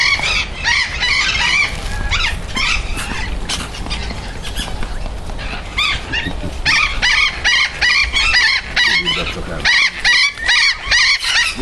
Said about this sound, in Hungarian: Itt vannak a madarak